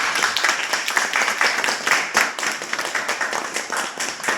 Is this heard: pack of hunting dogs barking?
no